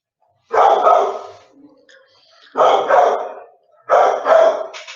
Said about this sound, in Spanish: mi perro se enloqueció